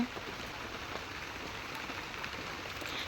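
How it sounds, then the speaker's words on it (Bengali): Heavy rain falls outdoors on a flooded yard, a soft, even hiss of drops that stays steady and fairly distant, with no voices. "এত বৃষ্টি হচ্ছে দেখুন, আমাদের এদিকে সব জল উঠে গেল।"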